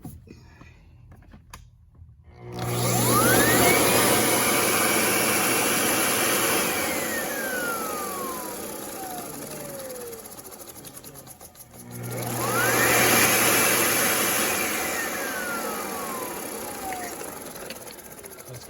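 A Windsor Sebo commercial vacuum cleaner powers up with a rising whine, runs steadily, shuts off and winds down, then starts and runs again, close and loud in a quiet room.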